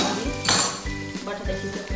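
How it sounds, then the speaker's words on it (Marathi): Cumin, mustard seeds and curry leaves crackle and sizzle in hot oil for a tadka, with repeated metal stirring scrapes against the pan in a steady rhythm. "फोडणी देते. तडका, जिरं, मोहरी, कढीपत्ता."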